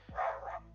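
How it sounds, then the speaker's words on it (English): A dog gives a single short bark, moderately close and alone, with no talk around it. "Sorry about the dog barking"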